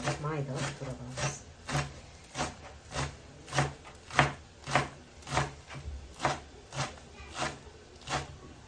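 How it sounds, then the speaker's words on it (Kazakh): Fresh greens chopped with a knife on a board: steady, evenly spaced strokes about twice a second, close and clear over a quiet background. "Майдалап, бұларды майдалап турап аламыз."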